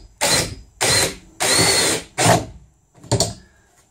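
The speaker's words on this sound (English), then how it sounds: "I've got exactly the wrong drill for this." A hammer drill runs in four loud bursts with short pauses between, followed by a brief final blip, harsh and close.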